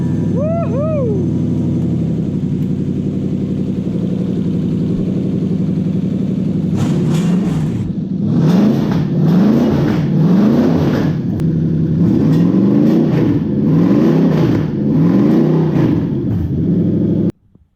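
A Toyota 1UZ V8 on a conversion loom is revved in repeated sharp bursts, each rising and falling, after a steady idle and a brief chirp at the start. The bursts come close and loud, and the engine cuts off abruptly at the end.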